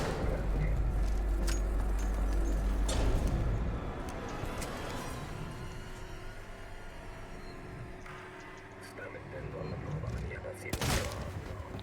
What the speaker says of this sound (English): We'll take a couple of gunshots, but because it's Novice, we really don't mind.